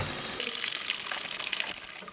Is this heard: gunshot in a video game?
no